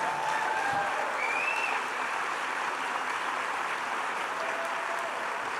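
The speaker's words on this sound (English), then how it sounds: "Please give a warm round of applause to Dr. Miriam and Sheldon Adelson." Steady applause from a conference audience fills the hall, a dense wash of clapping that holds loud and even across the whole stretch with no voices over it.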